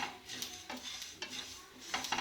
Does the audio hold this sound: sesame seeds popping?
yes